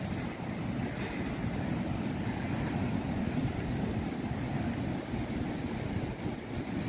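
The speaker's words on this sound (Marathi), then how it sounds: "हे बघा आमचं समुद्र." Sea waves at Ganeshgule beach on the Konkan coast at sunset, a continuous low rumbling surf wash mixed with wind buffeting the microphone, steady and loud with no talk.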